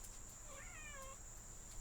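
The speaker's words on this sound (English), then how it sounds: "That's the cat responding." A house cat gives one soft, rising meow, faint and fairly distant, against a quiet room with a low background hum.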